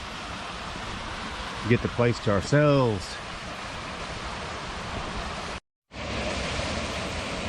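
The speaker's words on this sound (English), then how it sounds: "That is a beautiful waterfall." A waterfall at Nine Penny Branch Nature Preserve gives a steady broad rush of falling water close by, with a brief voice speaking over it early on.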